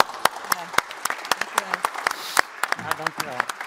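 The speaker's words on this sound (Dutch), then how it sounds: "Dus graag een applaus voor onze." A small audience at an academic talk claps in scattered, distinct hand claps, fairly sparse and close, with voices talking amid the clapping.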